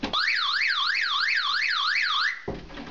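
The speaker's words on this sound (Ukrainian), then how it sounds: "А коли магніт забираєш від другого, то починається вівкати сигналізація." A door security alarm sounds after its magnet sensor is pulled apart, a loud electronic whoop that rises and falls in a steady, repeating sweep for over two seconds, then cuts off abruptly into faint background noise.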